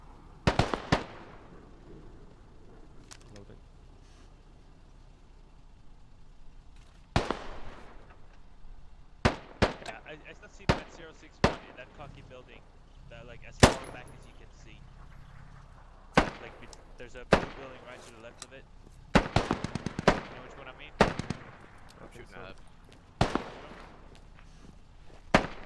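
Gunfire in the tactical shooter Squad, sharp single shots and short bursts cracking out at irregular intervals, some near and loud, others more distant, with voices talking between the shots.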